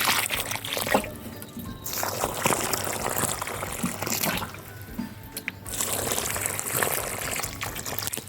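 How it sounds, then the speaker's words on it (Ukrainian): Water poured onto freshly planted tomato seedlings in a garden bed, a close, continuous splashing trickle in several bursts with brief pauses between pours, no talking. "Вливаю ось так водичкою."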